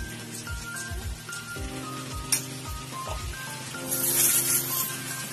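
Diced onions sizzling in hot frying oil with ginger for crispy chicken, a continuous close crackling hiss with a few spoon scrapes and stirring knocks, growing louder toward the end.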